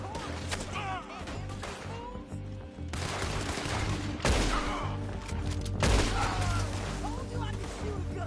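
Bursts of gunfire in a Western action video game, several sharp shots and rattling volleys at varying distances over a dense in-game ambience, with character voices talking in between.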